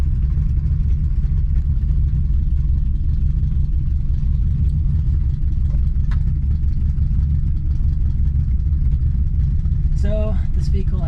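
A 1966 Ford Mustang with the optional rally pack idles steadily after start-up, its low engine rumble loud and continuous throughout, with a brief faint rattle near the end.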